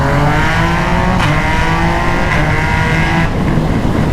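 A Yamaha MT-09 motorcycle engine revs loud and close, a dense sustained roar with rising pitch sweeps and no talking.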